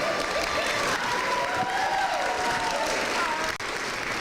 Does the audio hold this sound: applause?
yes